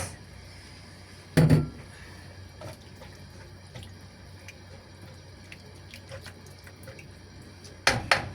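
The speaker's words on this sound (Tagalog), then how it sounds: "Lagyan natin ng tubig." Mung bean cooking water pours into a pan of green beans, a steady close splash running for several seconds with a couple of louder clanks or splashes at the start and end.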